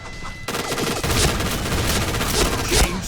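Rapid gunfire in the Point Blank shooting game, a dense, loud burst of overlapping shots that runs almost unbroken for three seconds after a brief quiet start, with no talking.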